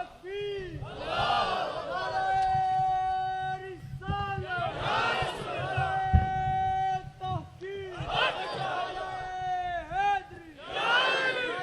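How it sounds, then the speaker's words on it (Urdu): A crowd at an Urs religious gathering chants slogans in loud repeated call-and-response waves, many voices roaring together, with a leader's voice shouting between bursts. "مجھے اصل میں بسم اللہ مجھے نعرے بڑے ٹھنڈے لگا رہے ہو یار"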